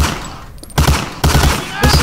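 Gunfire from the World War II shooter Medal of Honor: Allied Assault, sounding as loud, dense bursts of rapid shots separated by brief lulls.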